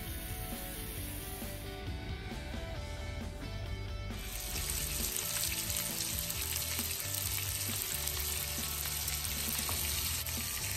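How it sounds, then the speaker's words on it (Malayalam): Masala-coated stuffed mussels shallow fry in oil, a continuous crackling sizzle that grows louder and brighter partway through, close and steady with no speech. "നമ്മളിവിടെ ഷാലോ ഫ്രൈ ആണ് ചെയ്യുന്നത്, ഡീപ്പ് ഫ്രൈ അല്ല."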